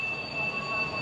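An Indonesian high-speed bullet train runs on rails between Jakarta and Bandung, with a steady, loud wheel squeal and a continuous rolling rumble throughout.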